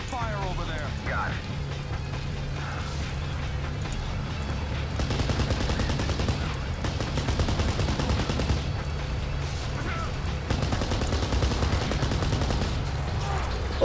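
Gunfire in the shooter game Kane and Lynch: Dead Men, a dense sustained barrage of rapid shots and bursts that grows louder midway, with voices mixed in.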